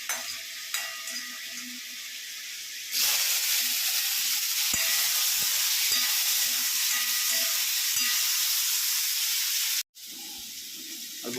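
Tomatoes go into a pan of frying onions and chicken, setting off a loud, steady sizzle with stirring scrapes that runs for several seconds before cutting out abruptly, then returns briefly.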